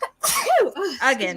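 A single sharp human sneeze, loud and close, followed right after by a short spoken word.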